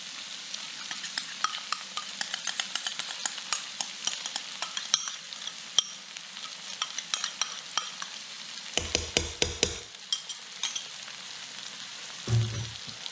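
Sloppy joe mixture with Heinz 57 ketchup and Worcestershire sauce being stirred in a pan: soft scraping and clicking of the spoon in repeated strokes over a faint sizzle, a few louder knocks near the end.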